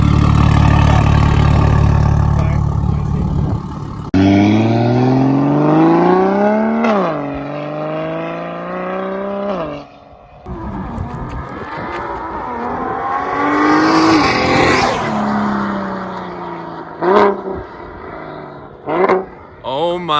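BMW F80 M3 running a single-turbo conversion with an upgraded exhaust, revved hard in repeated loud climbing pulls that drop back between bursts, close and dominant, with short sharp blips near the end and voices faintly underneath.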